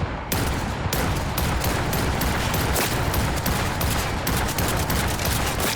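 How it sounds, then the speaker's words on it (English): Continuous rapid gunfire from an assault rifle in the video game Cyberpunk 2077: Phantom Liberty, loud and dense throughout with repeated sharp shots merging into a sustained barrage. "Let's try the assault rifle."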